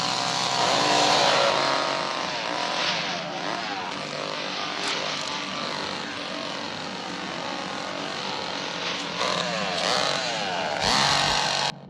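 A loud chainsaw from the 1974 film The Texas Chain Saw Massacre roars continuously, its engine revving up and down in pitch throughout.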